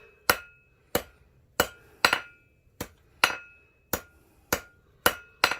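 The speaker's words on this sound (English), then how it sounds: "And I did do the diagonals with the flat surface of my hammer also." A hammer forges a copper bangle on an anvil with about ten crisp, ringing metallic strikes at a steady, unhurried pace, each close and bright with a short decay, no voices.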